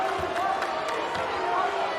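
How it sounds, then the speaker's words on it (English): A home crowd at a Wofford basketball game against Furman roars in a steady, dense swell of cheering, with a few sharp thumps under it and an announcer talking over the noise. "they have awoken this Wofford crowd once again"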